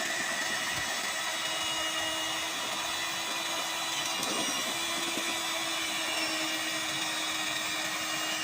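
An electric beater whirs steadily through chocolate cake batter in a home kitchen, a continuous motor drone with a faint higher whine that holds unbroken throughout.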